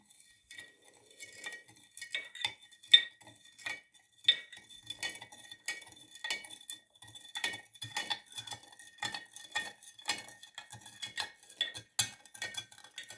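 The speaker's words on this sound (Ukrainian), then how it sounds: "гарно розмішаю, щоб розчинився цукор" A spoon clinks and scrapes steadily against a glass jar while stirring sugar into water, light rhythmic tapping and swirling that continues for several seconds, close by and fairly quiet.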